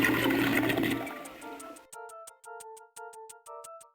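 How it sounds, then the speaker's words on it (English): A toilet flushes in the Snatcher video game, a loud rushing water surge lasting about a second, followed by a short run of soft rhythmic electronic tones. "Flush sound."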